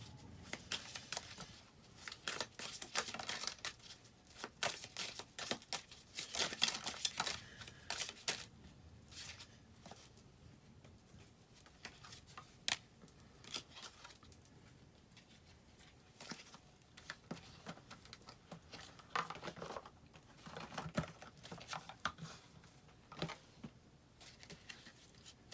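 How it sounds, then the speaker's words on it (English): Shuffling a large tarot deck one half at a time, a soft papery riffling and shuffling that comes in bursts with quieter handling between, close and fairly faint. "This is a very large deck, so I shuffle it one half at a time."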